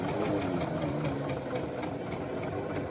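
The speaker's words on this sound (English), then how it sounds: "And then as I stitch, I'm going to follow the presser foot and the edge of the fabric." A sewing machine stitches a curved seam slowly, its motor a steady close mechanical whir with faint rhythmic needle knocking throughout, no voices.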